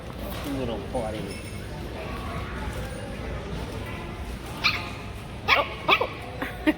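A shaggy puppy gives a few short, high yips and barks toward the end, close by, over a background of people talking softly.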